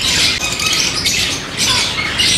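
A talking pet bird at a bird market squawks loudly and repeatedly in harsh, raspy bursts, close to the listener, with no voices.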